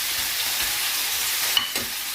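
Buttered chicken sauce simmers in a pan over lowered heat, giving a steady, even sizzling hiss close by with no one talking.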